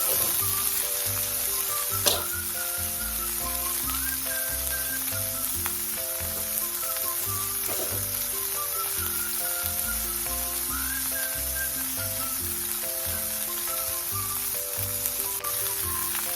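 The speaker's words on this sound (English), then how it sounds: "You want to have a nice little sizzle when you put this chicken breast down." Steady, close sizzling and crackling of chicken breast frying in a hot cast iron skillet, continuing without a break, with faint music playing underneath.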